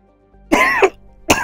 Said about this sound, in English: Pardon my coughing, I'm getting a bit of a cold.